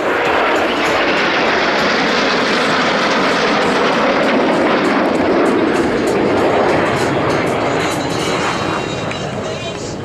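An Alpha Jet of the Patrouille de France passes over an air show, a loud continuous roaring jet rush that holds steady and fades slightly toward the end, with a commentator talking over it.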